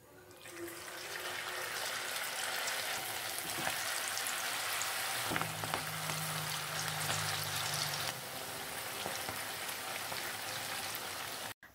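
Instant noodle fritters (bakwan mie) frying in hot oil, a steady dense sizzle and crackle running unbroken for the whole stretch with no talk over it.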